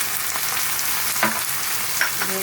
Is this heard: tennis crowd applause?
no